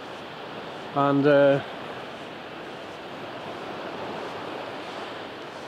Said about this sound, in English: you can see there the waves are starting to break at the top over there now